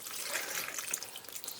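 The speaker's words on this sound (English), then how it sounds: "So now I'm going to pour all of the juices." Slow-cooked cooking juices pour from a pot in a quiet, continuous liquid trickle with small splashy dribbles, soft and close, lasting under two seconds.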